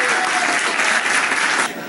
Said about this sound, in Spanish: Un aplauso para nuestros campeones nacionales